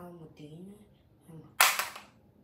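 A smartwatch hits a hard surface after being dropped from a slightly greater height, giving one sharp, loud clatter late in the clip after a brief stretch of quiet speech.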